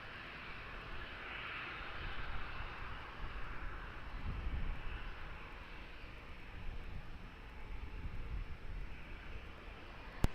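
An airliner takes off at Lisbon Airport, a broad jet roar that swells and lingers at a moderate distance, steady without speech.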